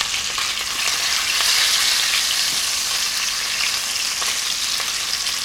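Food fries in a pan on a stove, giving a loud, continuous, crackling sizzle with scattered pops throughout and no talking.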